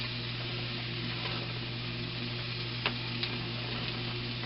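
Bacon strips sizzle in a pan with a steady close crackling hiss, broken by a couple of faint ticks near the end and no talking.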